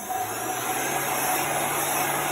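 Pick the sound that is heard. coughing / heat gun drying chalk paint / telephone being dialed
heat gun drying chalk paint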